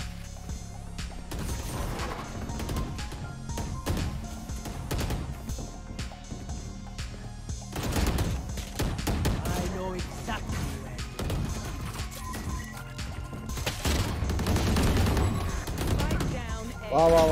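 Rapid bursts of gunfire ring out through a tournament match of a mobile battle royale game as players rack up two and three kills, the shots loud and dense over the game mix, with an excited commentator talking throughout.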